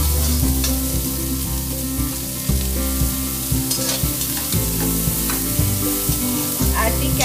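Peppers and other vegetables frying with onions in a pan, a loud continuous sizzle broken by periodic scraping and knocking as the mixture is stirred, with a low hum running beneath.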